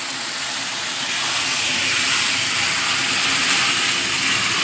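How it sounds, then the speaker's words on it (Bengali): Hot water is poured into a cooking papaya and potato curry, making a sustained sizzling hiss that grows slightly louder and continues steadily, close and without talk. "এইবার দিয়ে দিচ্ছি গরম জল, অল্প করে দিলাম"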